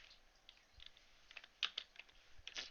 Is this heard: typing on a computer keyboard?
yes